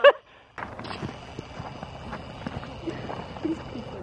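Horses in a barn clip-clopping, a sparse scatter of hoof knocks and shuffles nearby, fairly faint, after a short sharp sound at the very start.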